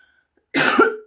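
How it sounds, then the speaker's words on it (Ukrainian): One short, sharp cough from a nearby woman, heard alone in a quiet room. "Я, можливо, буду трішки кашляти."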